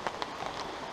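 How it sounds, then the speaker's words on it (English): Meltwater from winter snow drips off trees in the Highlands, a close patter of scattered drops landing on wet ground, steady and unhurried with no voices. "drips coming off the trees,"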